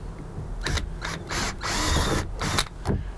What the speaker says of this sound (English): let me drill you another hole